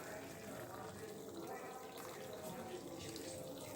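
Hot water pours continuously into gravy in a cooking pot, a steady faint splashing rush that lasts the whole time without pause.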